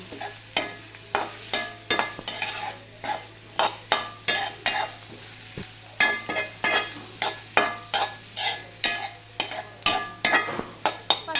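A spoon scrapes and stirs cauliflower masala curry with green chillies in a sizzling pan, repeated strokes in a steady rhythm, close and clear with no talking.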